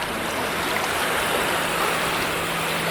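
Constant loud wash of water at Mount Martha Beach, waves rolling onto the shore in a dense, unbroken roar with no distinct individual breaks, heard alone without voices.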